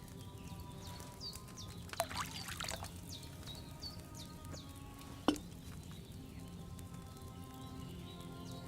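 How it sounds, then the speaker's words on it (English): Wine poured in Kingdom Come: Deliverance 2, a soft continuous liquid stream under quiet ambient game sound, with a couple of sharp clinks and faint bird calls. "So pour wine."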